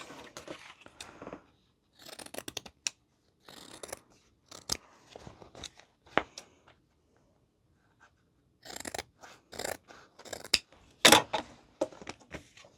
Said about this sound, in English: you're going to go ahead and trim down the seams, or the seam allowance.